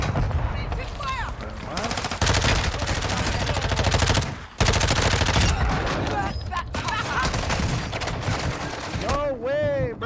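Heavy automatic gunfire in a Modern Warfare 3 match, with dense sustained bursts rattling almost nonstop, a brief pause near the middle, and players talking over the shooting.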